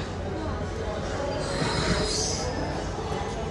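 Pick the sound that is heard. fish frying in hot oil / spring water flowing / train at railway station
train at railway station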